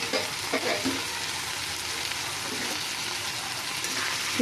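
Prawns and chopped onion stalks sizzle steadily in a hot pan while being stirred, a dense continuous frying hiss with a few louder scrapes near the start.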